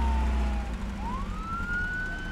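A police car siren in the Arma 3 video game wails with rising and falling tones, heard close and loud over a low engine rumble.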